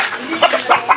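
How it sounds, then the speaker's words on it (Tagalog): Backyard chickens cluck in quick, close bursts, several short calls in about a second over a steady outdoor background, with no talk. "Dito sa likod mga manok."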